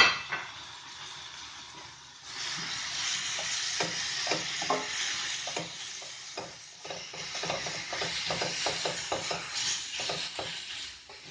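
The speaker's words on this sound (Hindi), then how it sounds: "कीमे को मैंने इसमें 4 से 5 मिनट तक अच्छी तरह भून लिया लहसुन और अदरक में।" Beef mince sizzles and fries in a pan with garlic and ginger, stirred steadily, with scraping and light clinks of the utensil against the pan under continuous close, crackling frying.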